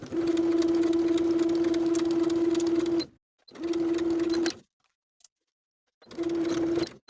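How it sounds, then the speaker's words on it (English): A sewing machine stitches a pant fly facing seam in three bursts, a long run then two shorter ones, with a steady whirring hum and brief silent pauses between, close and clear without talk. "Sew from the top to the notch with a 3/8 inch seam allowance"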